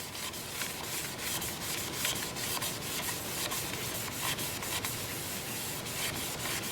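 Sandpaper, 100 to 400 grit, rubbing against the inside of an oval wooden bowl as it spins in reverse on a lathe at 380 RPM, a continuous close scratchy hiss with a faint rhythmic pulse, no voices.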